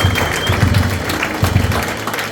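A church congregation applauds loudly for the Lord at a service: dense, steady clapping from a large crowd that carries through the whole moment without pause.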